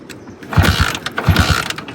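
A broken-down motorbike in the Neelum Valley fails to start: two short bursts of mechanical clanking and ratcheting, like repeated kick-start attempts, sound close by with no engine catching.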